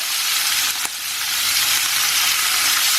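Chilli pork sizzles and fries steadily in a hot pan as vinegar, soy, sriracha, tomato and sweet chili sauces go in, a continuous bright hiss with one brief sharper burst early on.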